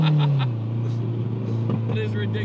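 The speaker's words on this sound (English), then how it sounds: "With this, you hear the turbo almost no matter what." Nissan 240SX S14 with an SR20 turbo and a side exit exhaust by the side skirt, a loud close engine drone with turbo whine and a falling pitch at the start, heard through a slightly open window.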